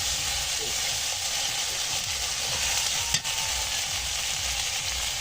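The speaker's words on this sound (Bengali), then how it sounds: "সব কিছু দিয়ে সুন্দর করে একটু কষিয়ে নিচ্ছি।" Spices, bay leaf, chili and ground paste sautéing in a pan, with a dense, even frying hiss that runs close and loud throughout, one brief knock near the middle, and no voices.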